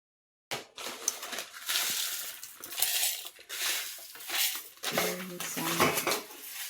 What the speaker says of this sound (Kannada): ಈಗ ಇದನ್ನು ಗ್ರೈಂಡ್ ಮಾಡ್ಕೋಬೇಕು, ಪುಡಿ ಮಾಡ್ಕೋಬೇಕು.